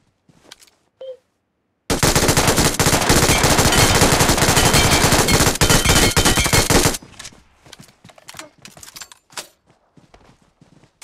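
Gunfire from a new gun in PUBG Metro Royale: one short shot, then a continuous loud automatic burst lasting about five seconds, followed by scattered footsteps and small clicks.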